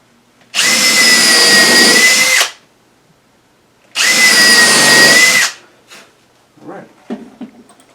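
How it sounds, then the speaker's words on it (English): A cordless power drill pre-drills holes in wood for a planter stand, two loud sustained whirring bursts of about two seconds each, followed by a few light clunks and handling knocks. "So we're going to pre-drill it"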